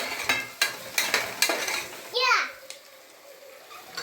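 Onion, drumstick and potato sautéing in a pan for chicken kulambu, with a few sharp spoon-on-pan scrapes and clinks over a soft sizzle, then a brief high voice sweeping across and quieter stirring after.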